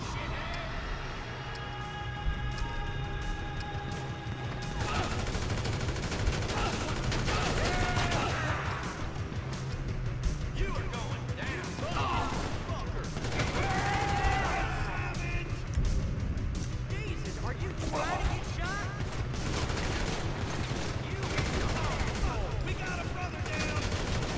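Gunfire in Grand Theft Auto 5 rings out in bursts over a busy, loud game soundscape, with voices shouting and talking across it for most of the stretch.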